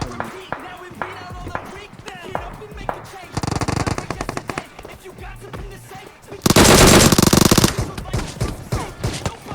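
Gunfire in a battle royale video game, with bursts of rapid automatic fire including a DP gun, loud and close, alternating with quieter stretches under a voice speaking Hindi.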